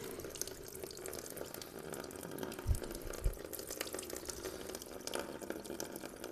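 Coolant drains from a Honda CB500X motorcycle radiator in a steady trickling, splashing stream with a couple of soft knocks midway, close and continuous with no talking.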